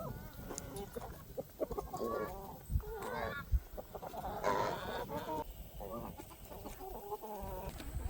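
Backyard chickens cluck and chatter steadily while being given soft cucumbers as a treat. Several birds call over one another close by, with a busy outdoor background.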